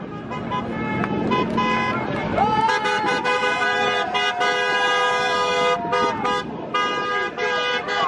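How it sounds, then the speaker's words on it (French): Car horns honk in support of a street demonstration on a Lyon motorway, long sustained toots and repeated blasts from several vehicles over traffic and crowd babble. "Les klaxons sont toujours nombreux et montrent un soutien."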